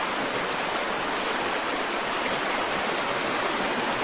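Indian River in Sitka, Alaska, flowing over rocks in a constant broadband rushing wash, steady and close with no pauses.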